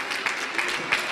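Audience applause in a sports hall at the end of a Serie A2 men's handball match, a brief, steady wash of clapping at moderate loudness.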